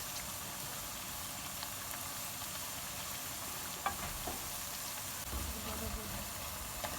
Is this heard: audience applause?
no